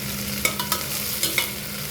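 Steady, close sizzling of onions frying golden in oil, with a few scraping stirs of a spoon in the pan.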